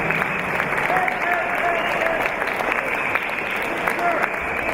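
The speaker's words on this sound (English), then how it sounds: "Please give them a round of applause." Crowd applause fills a championship awards night for the US Capitol Classics and China Open 2022, a steady dense wash of clapping throughout with faint voices and whistles mixed in.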